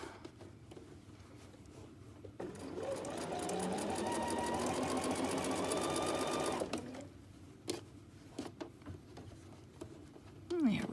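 A sewing machine runs steadily for about four seconds stitching a fleece neck warmer, a close, whirring mechanical hum that starts and stops cleanly, with soft handling noises and brief talk around it.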